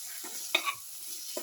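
A spoon stirring salt into a bowl of garlicky bitter gourd yogurt raita, a few brief, soft scraping and squelching strokes close up with quiet pauses between them.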